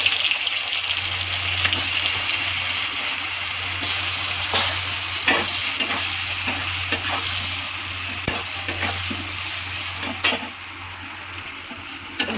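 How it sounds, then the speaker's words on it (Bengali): Sliced eggplant fries in hot oil, giving a steady close sizzle throughout with occasional scraping and stirring clicks from a spatula in the pan. "ওই তেলের মধ্যে কাটা বেগুনটা ভেজে নেব।"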